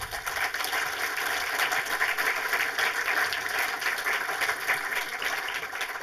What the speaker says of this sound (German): schon mal vorab einen Applaus, äh, dass ihr hier seid